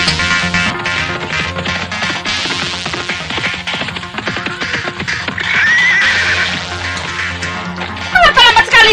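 A horse whinnies in a 1980s radio drama sound effect, loud and up close over a dense bed of music and clip-clop, with a second sharp whinny at the end.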